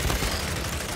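Dense, loud gunfire in the video game Gears 5 during a Horde match on the Turbine map, a continuous rapid burst of shots filling the whole moment.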